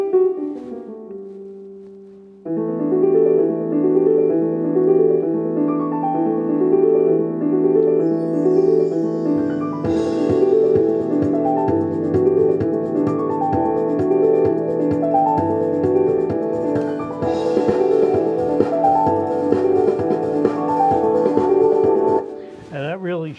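Built-in song demo on a Casio Privia S-7000 digital piano, a steady, full arrangement of piano with backing parts and drum sounds, starting after a brief opening note and running without pause for over twenty seconds, ending abruptly.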